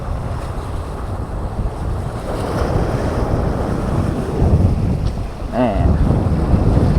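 Waves wash steadily along a seashore beside a mangrove forest, a continuous loud rush heavily mixed with outdoor wind buffeting.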